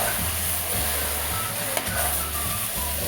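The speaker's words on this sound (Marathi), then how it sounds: "आपण सर्व मिक्स करून घेणार आहोत" Brinjal and potato vegetable with ground peanut and salt being stirred in a hot pan, a steady close sizzle with a rhythmic scraping of the spoon throughout, no voices.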